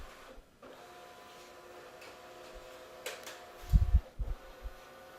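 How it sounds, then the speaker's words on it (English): A document scanner feeds and scans a stack of pages while Bates-stamping them, giving a steady mechanical whir with faint ticks and a few low thumps near the end, with no voices. "starts scanning. And that'll bring all these pages into the machine and put them into a PDF file."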